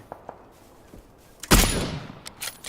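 A suppressed Kar98k rifle shot in a video game, a single sharp burst partway through with a trailing decay, preceded and followed by faint soft clicks and thumps.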